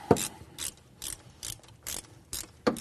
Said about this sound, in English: The second step is you want to take this bottom bolt out.